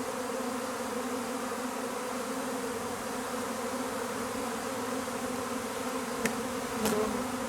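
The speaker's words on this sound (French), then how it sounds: "On voit bien les abeilles là, en train de former la grappe sous la branche de sapin" A swarm of honeybees clustering under a fir branch fills the air with a steady, dense buzzing hum that holds level throughout, with a couple of brief sharper sounds near the end.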